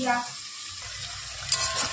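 Tomatoes, green chilli, onion and garlic sizzle and are stirred in hot oil in a wok, a close, steady frying hiss with a brief scrape of the spatula near the end.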